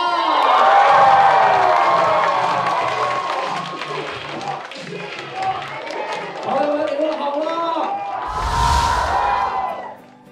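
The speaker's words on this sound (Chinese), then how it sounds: "掌声欢迎王建国" A talk-show stand-up comedy studio audience cheers and applauds loudly, with shouting voices and clapping swelling at the start, dipping, then rising again before fading out.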